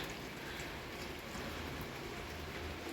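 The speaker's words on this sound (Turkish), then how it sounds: "yağmur yağıyor bayağı bir" Heavy rain pours steadily outside on a morning, a dense continuous hiss filling the whole stretch, close and loud with no voices over it.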